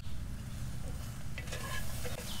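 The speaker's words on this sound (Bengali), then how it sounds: "তাতে আমি হালকা একটু সটে করে নিলাম" Beans and green chillies are sautéed in a pan for millet khichudi, a dense, close, steady sizzle with soft stirring scrapes over a couple of seconds.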